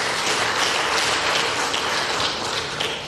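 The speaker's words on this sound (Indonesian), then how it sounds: "Kita beri tepuk tangan juga." An audience at a stock exchange year-end closing ceremony applauds, producing a dense, continuous wash of many hands clapping at steady loudness throughout.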